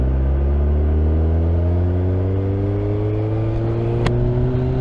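A 2021 Suzuki Hayabusa motorcycle accelerating in sixth gear from low revs, the engine drone rising steadily in pitch, loud and close throughout with wind rush.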